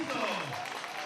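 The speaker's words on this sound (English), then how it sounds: "going to get the applause there" Crowd at a high school football game between Slidell and Northshore applauding after a run up the middle, a brief burst of clapping and cheers under an announcer's voice.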